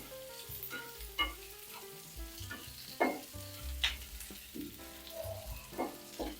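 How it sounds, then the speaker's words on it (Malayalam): Onion sautés in a pan for paneer peas masala, giving a close, quiet, continuous sizzle with scattered crackles and occasional scraping stirs, with no talking. "ഇതൊന്ന് വഴന്ന് വന്നോട്ടെ,"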